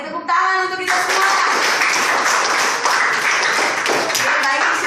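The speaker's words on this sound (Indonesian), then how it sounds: "Oke, tepuk tangan untuk kita semua." A high school classroom bursts into steady, dense hand-clapping after a short opening tone, the applause sustained and close for several seconds.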